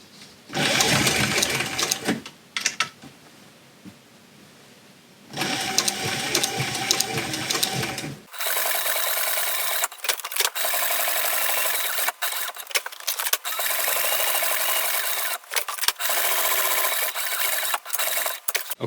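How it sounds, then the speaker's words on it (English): A sewing machine stitches a saddle's stirrup leather to the fender in loud, close bursts of rapid needle chatter, a long run followed by a pause and then many short start-stop spurts, with no talking. "our stirrup leather is now sewn to our fender."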